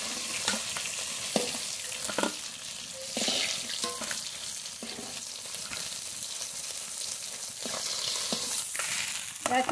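Pieces of rohu fish fry in hot oil, giving a steady close-up sizzle broken by occasional sharp scrapes and clinks from a utensil being stirred in the pan.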